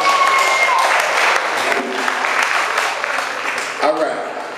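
Applause from the crowd at the Blue Magic poetry slam, a steady roar of clapping with a brief whistle-like tone early on. It eases slightly toward the end as a voice briefly cuts in.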